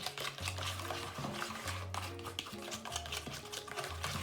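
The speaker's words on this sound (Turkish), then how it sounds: "Şöyle çırpacağız önce." A whisk stirs salt into a mixture in a bowl for hand-made pasta dough, making soft, quick, rhythmic scraping and swishing strokes, quiet and close, over a low steady background tone.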